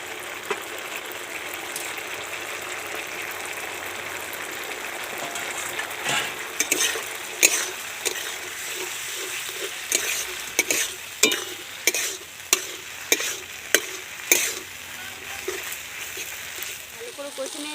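Grated potato frying in oil in a pan for a stuffed pointed gourd curry: a constant sizzle runs underneath, then a spoon scrapes and stirs in a series of sharp, rhythmic knocks and scrapes against the pan.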